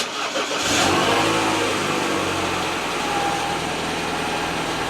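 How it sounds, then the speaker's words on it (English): A BMW F20 1 Series with the N13 engine starts up and settles into a steady running warm-up. The engine note is loud, close and continuous, with no talking. "it's best to warm up the engine before an oil change"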